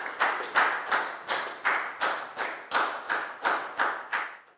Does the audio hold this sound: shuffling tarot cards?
no